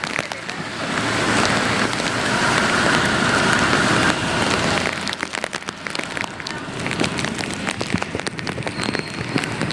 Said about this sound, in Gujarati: વરસાદ આડી ચાલુ થયો ને એમાં ભરાઈ ગયું એટલું.